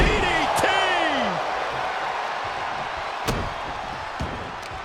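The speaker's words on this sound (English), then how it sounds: "Shot after shot, then slamming their face down." A pro wrestling match between Jay White and Adam Copeland: a sharp slam as an opponent's face is driven down onto the mat, with a second thud later, over steady loud crowd roar.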